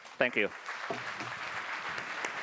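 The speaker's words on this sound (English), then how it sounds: "may we give them a round of applause" Summit audience applauding a finance panel, a steady wash of clapping that rises after a brief spoken thank-you at the start and carries on evenly to the end.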